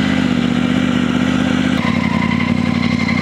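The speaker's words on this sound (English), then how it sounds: "Starting the bike" An adventure motorcycle's engine runs at a steady idle with a rhythmic mid-range thrum, close and loud, shifting pitch slightly partway through as it settles.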